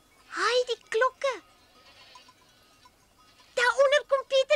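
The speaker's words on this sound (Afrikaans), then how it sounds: "Daaronder kom Pieter met die bokke aan" Goats in a herd bleating as they come closer, with several loud, wavering bleats near at the start and a burst of rapid bleats at the end, faint bell-like tinkling between them.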